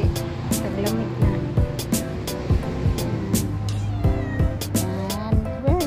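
A hungry cat meows repeatedly while asking for food in a garden, with drawn-out, insistent cries recurring every second or so, close and loud, and a person's voice talking in between.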